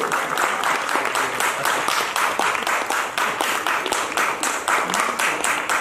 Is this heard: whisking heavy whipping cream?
no